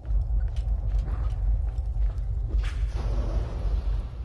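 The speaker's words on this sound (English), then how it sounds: "The sound of those earthquakes marks my drills getting closer and closer to the vaults." Deep, steady low rumble fills the whole stretch, with faint grinding and creaking textures layered on top, like a distant quake from drilling in the video game Borderlands 2.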